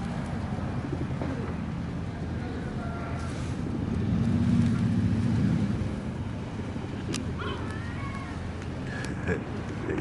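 Pigeons at St Thomas Church in Ryde coo softly and repeatedly amid steady outdoor background noise, with a faint voice and a few sharp chirps later on.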